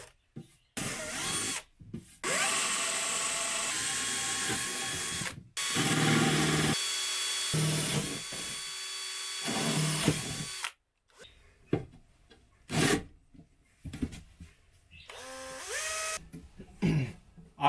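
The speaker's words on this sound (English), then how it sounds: "You need to drill 16mm holes." Power drill boring 16mm holes into a PV combiner box, several loud whirring bursts of a few seconds each separated by pauses, followed by shorter intermittent drilling and handling noise close by.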